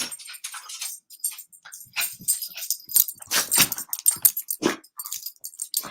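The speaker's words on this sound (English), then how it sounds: "my dog is loose. I hear her." A loose dog whimpers and snuffles close by in a quick, uneven string of short whines and yelps, sometimes with a jingle like keys or a collar, and no talk over it.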